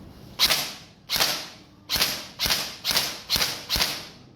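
Seven sharp gunshots from a firearm fired in single-shot mode at a range, evenly spaced about half a second to a second apart, loud and close with short decays.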